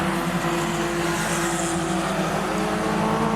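A junior sedan race car roaring past on Rockhampton Speedway, a loud steady engine drone with other cars blending in, no talk heard.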